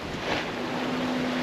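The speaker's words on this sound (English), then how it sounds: "It's a really smooth sail, lovely weather, nice following seas" A sailboat runs smoothly before following seas on a solo passage from Grenada toward the ABC islands, with a steady rush of wind and water and a faint constant hum throughout; no one speaks.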